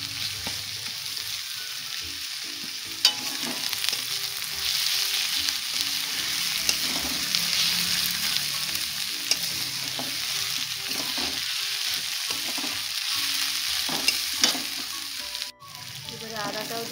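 Garlic frying in oil in a pan and being stirred, a continuous loud sizzle with occasional clinks and scrapes of the spatula, close up and steady for the whole stretch.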